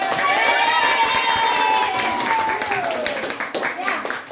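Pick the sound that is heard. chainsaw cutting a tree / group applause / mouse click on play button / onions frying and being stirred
group applause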